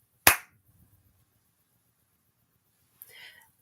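One sharp, loud hand clap rings out close by in a quiet room, followed by silence and then a short burst of faint noise a few seconds later.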